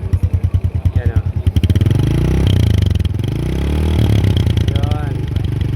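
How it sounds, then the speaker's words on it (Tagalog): A motorcycle engine idles and revs up close, a smoky-exhaust bike with a steady low throbbing that swells and settles across the clip. "Paanda rin natin itong motor."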